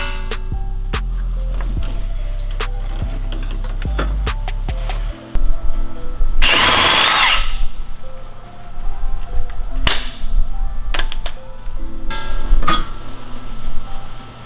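An impact tool removes the axle nut on a Mk6 VW Golf GTI during a coilover install: a harsh, loud burst of hammering rattle lasting about a second, surrounded by metallic clinks and workshop clatter.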